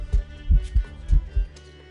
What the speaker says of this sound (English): Why did I get the heartbeat there?